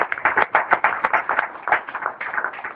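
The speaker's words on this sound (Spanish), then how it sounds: "Dele palmas al Señor." A church congregation claps for the Lord during a Spanish-language worship service, with steady rhythmic clapping filling the room throughout.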